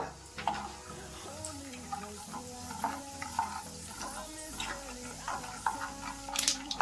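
Chana dal and mustard seeds fry in oil and ghee with a faint, quiet sizzle, while a spoon stirs and ticks against the pan in uneven taps and music plays softly underneath.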